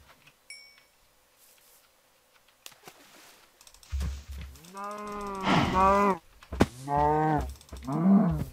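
Cows in the Minecraft video game moo in several drawn-out, nasal calls in the second half, following a quiet stretch with faint keyboard clicks.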